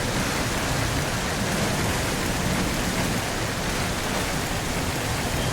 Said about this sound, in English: can you turn off the rain?